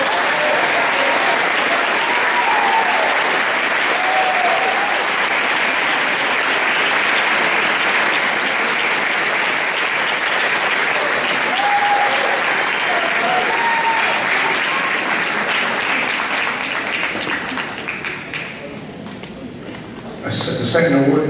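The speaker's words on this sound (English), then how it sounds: "Please give him a big hand of applause to Clayton Harrison" A school fall sports awards ceremony fills with long, steady applause from the audience for an honored team member, dense clapping that holds for many seconds before fading near the end, then a brief louder burst.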